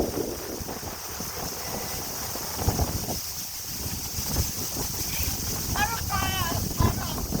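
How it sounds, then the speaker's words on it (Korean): Strong wind gusting outdoors in winter, roaring steadily across the microphone, with a man and his son calling out and talking over it and brief laughter. "여긴 바람 너무 많이."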